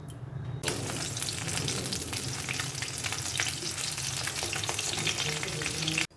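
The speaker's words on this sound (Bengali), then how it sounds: "প্রথমে মাছগুলো ভেজে নেব।" Katla fish pieces fry in hot oil in a wok, with a dense, close sizzle that kicks in abruptly after a brief quiet start and crackles evenly until it cuts off.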